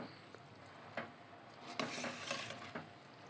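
Rice with fenugreek leaves and masala fries in a hot pan on the stove while a spoon stirs it, making a soft sizzle broken by several scraping stir strokes, quiet and close.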